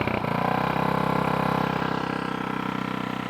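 An Earthquake Pioneer 37037 rear tine tiller engine held at full throttle, a loud, steady, close-up mechanical drone with a fast regular pulsing and no change in pitch throughout.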